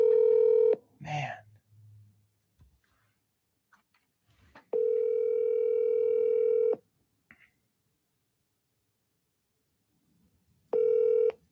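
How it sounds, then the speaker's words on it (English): A telephone line on a call-in show plays repeated electronic ringback tones in long steady bursts with silent gaps between them, and a brief voice is heard in one gap, with no answer coming. "Damn, he won't pick up the phone."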